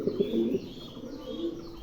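Pigeons coo softly in low, throaty bursts, several quick coos at first and another after a short pause, close by in a fairly quiet space.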